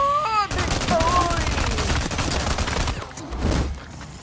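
Rapid gunfire in the game Days Gone crackles in a dense, loud burst of repeated shots lasting a few seconds, then a brief pause and a second short volley, with a voice talking over part of it.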